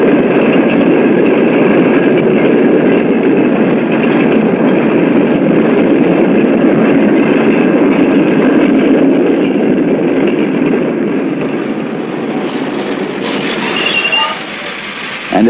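A train runs along railroad tracks with a heavy, continuous rumble of wheels and cars that holds steady, then eases slightly near the end, recorded with a dull, muffled tone.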